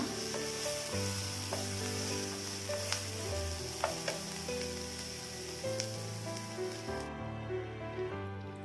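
Chopped garlic hits hot oil in a pan while tempering for Indian-style chicken lettuce wraps, giving a steady, close sizzle and crackle with scattered pops and faint stirring scrapes throughout.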